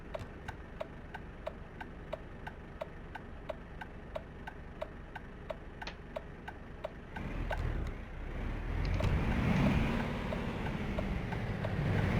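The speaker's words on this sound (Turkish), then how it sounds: "Sinyal sesimize bakalım." Regular ticking of a turn signal inside a Volvo FH truck cab, steady evenly spaced clicks for about seven seconds, then masked by a louder rumbling engine and cab noise.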